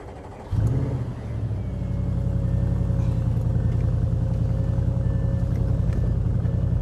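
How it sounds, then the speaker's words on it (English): A car engine catches with a sudden burst, then settles into a loud, steady, rumbling idle with a slight rise in revs, close by. "I gotta start the car for like 5 minutes."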